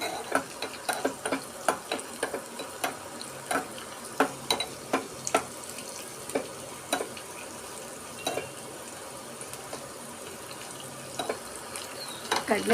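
Cumin and mustard seeds tempering in hot oil for mint chutney crackle with sharp, irregular pops and a soft sizzle underneath, close by, bursting in clusters and then thinning out.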